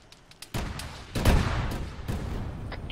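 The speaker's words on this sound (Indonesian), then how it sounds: "hati-hati Nina, dia tembak rumah itu" Gunfire aimed at a house in Arma 3, a few faint early pops followed by several heavy, booming shots with rumbling tails, spaced irregularly at a moderate distance.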